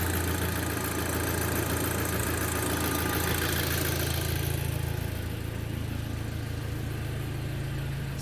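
A VW Golf 5 GTI engine idles just above 900 rpm after a timing chain kit replacement, a steady, close mechanical hum with a faint ticking texture throughout, no voices.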